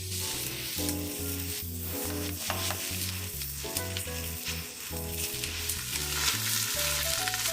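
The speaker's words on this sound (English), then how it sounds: "Now I'll add the eggs." Eggs hit a hot pan with softened mushrooms and sizzle loudly and continuously, with stirring and occasional utensil clatter close by, no voices.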